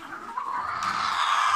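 Layer hens in a poultry house cluck and squawk close by, a dense busy chorus of hen calls filling the short moment without pause.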